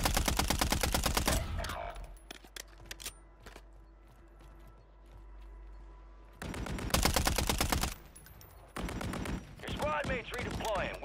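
Heavy automatic gunfire in the Call of Duty 3 video game, loud rapid bursts that stop for a stretch of distant battle noise and then resume, with voices calling out over it.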